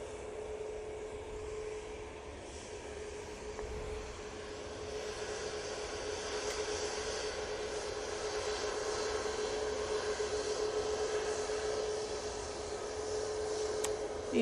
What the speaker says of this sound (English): Easyjet coming in